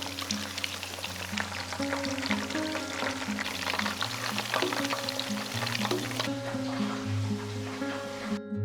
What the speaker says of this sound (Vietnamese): Vá sau khi đã tách tôm ra thì mình cũng ngâm dầu một chút trước khi chiên để làm cái bánh tiếp theo nha các bạn